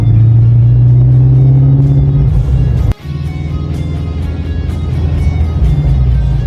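Shelby GT350 V8 on a race circuit in wet-weather mode: a loud, steady low engine drone with rising revs, a brief dropout near the middle, then continuous rumble under way, no talk.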